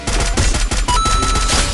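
Rapid bursts of Parafal automatic rifle fire from a video game, loud and close, shots rattling in quick succession.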